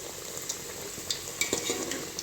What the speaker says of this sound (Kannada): ಚೆನ್ನಾಗಿ ಫ್ರೈ ಮಾಡಬೇಕು ನಾವು ಎಣ್ಣೆಯಲ್ಲಿ